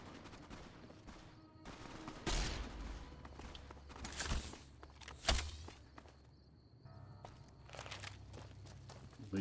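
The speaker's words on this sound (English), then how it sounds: "Who's shooting who here?" Scattered gunfire in a Mojave wasteland skirmish in Fallout: A Tale of Two Wastelands, a few sharp, fairly distant shots spaced across quiet stretches, with some crunching footsteps in between.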